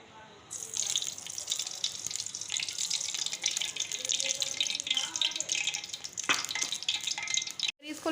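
Oil goes into a pan for white chicken yakhni pulao, giving a steady watery hiss and light sizzle over several seconds, close by, ending in a sudden brief drop-out.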